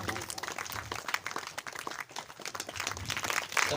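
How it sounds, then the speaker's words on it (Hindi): An audience claps at a Hindi religious storytelling gathering, a busy, uneven patter of many hands that rises and falls and swells again toward the end. "सभी लोग ताली बजाते रहें।"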